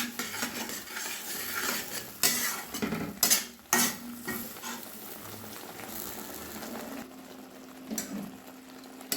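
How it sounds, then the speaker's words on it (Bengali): Spice paste for a snakehead fish curry stir-fried in a pan, a steady close sizzle with repeated scraping stirs and a few sharp utensil knocks against the metal, no voices. "আরও 2 মিনিট মশলাটা ভালোভাবে কষে নেব।"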